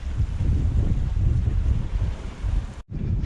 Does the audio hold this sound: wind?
yes